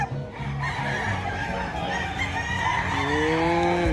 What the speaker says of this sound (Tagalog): Puro manok dito.